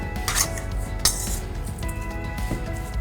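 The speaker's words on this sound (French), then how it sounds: "Et nous allons mélanger tout ça." Minced lamb being mixed with spices, chili, salt, pepper, coriander and shallot in a bowl, heard as close, brief clinks and scrapes of utensil against the bowl, with a couple of sharper knocks and no talk.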